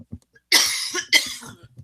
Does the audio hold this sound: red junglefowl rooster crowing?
no